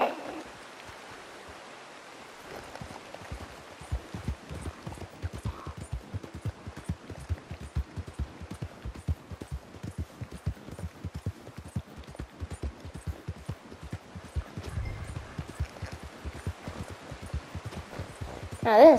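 Horse hooves in Red Dead Redemption 2 clip-clop in a fast, steady rhythm from about two seconds in, fairly close, over a faint background wash like running water, with no talk.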